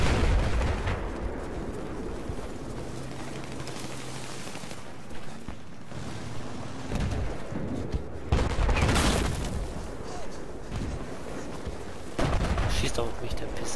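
Battlefield 4 combat with gunfire and heavy booming blasts, loud and continuous, some rumbling detonations rising over a steady din of battle.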